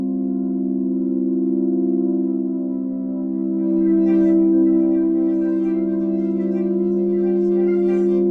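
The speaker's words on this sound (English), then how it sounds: "these are just some vintage tape recordings that they're sine waves processed" Processed vintage tape-recorded sine waves hold a steady, layered harmonic drone, then partway through the tone shifts and gains a wavering, chirping upper shimmer as a synth mod wheel moves.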